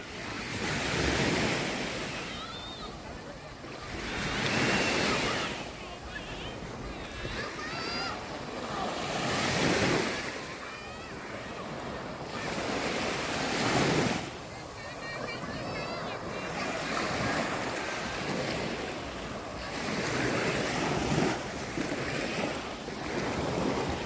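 Surf breaking and wind blowing on Hat Sai Kaew beach at evening, a steady loud roar of waves that swells and falls in broad surges, with someone talking over it.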